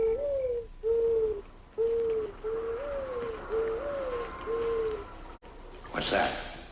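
A man imitates an owl's hoot in a rocky frontier cavern, giving a series of soft, level hoots in a steady rhythm, fairly close, followed by a brief rustling burst at the end.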